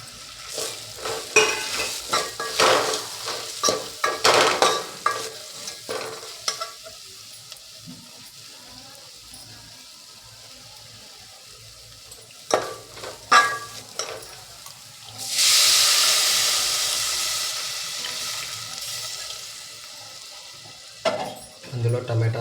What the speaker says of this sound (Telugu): మనం తీసుకున్న మిశ్రమాన్ని ఈ విధంగా కలుపుకొని